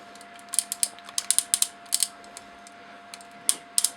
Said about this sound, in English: nice ratcheting joints there, all around movement there in the thigh